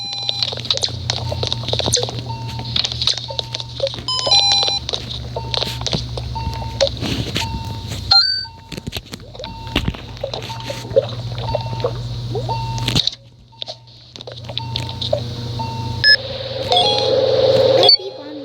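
An animal hospital video game plays repeated electronic beeps and bleeps over a busy, chattering game soundtrack with brief pauses, loud and close throughout.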